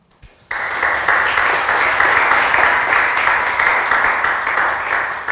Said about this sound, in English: let's give a round of applause for Jonah